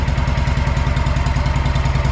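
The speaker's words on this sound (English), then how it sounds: "The engine sounds fantastic." A rebuilt engine on a Wright Stander X stand-on mower runs steadily at a fast idle, a loud, close, even mechanical chug with a rapid regular pulse and light clatter, heard alone with no voices.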